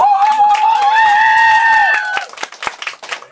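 A concert audience answers a second call for applause: a long, loud, held whoop-like tone rings out first, then gives way to scattered, uneven claps that fade toward the end.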